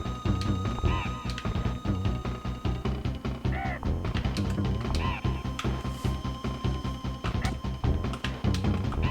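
Necky, the vulture boss in Donkey Kong Country, squawks in repeated caw-like bursts over busy game music and mechanical sound effects, loud and close with no talking.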